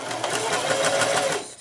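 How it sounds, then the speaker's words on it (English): A sewing machine stitches a fabric mask in one steady, fast-ticking whir heard up close, running continuously and then slowing at the end. "for the right side when you sew that down"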